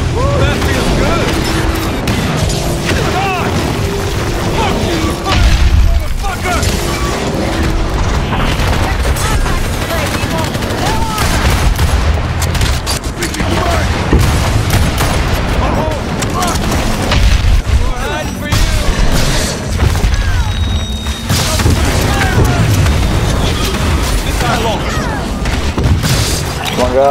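Heavy gunfire and booming explosions from a combat fight in the video game Evolve, a steady barrage of loud blasts and rumbling impacts lasting throughout, with excited voices talking over the action.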